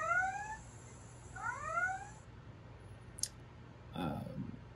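Two rising electronic whoops of a Star Trek red alert klaxon come from a lit Enterprise D model, faint and close together, followed by a click and a brief burst of noise.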